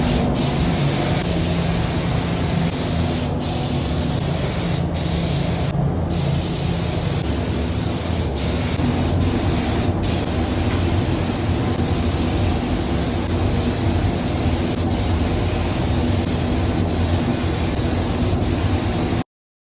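A spray gun lays down a final coat of primer on a Toyota 79 Series car bonnet, a steady loud hiss running throughout with a few brief breaks and clicks as the trigger is released.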